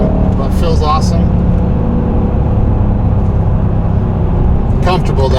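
Cabin sound of a 2014 Mercedes-AMG E63 S 4MATIC being driven: a loud, steady low engine and road drone throughout, with brief higher tones near the start and end.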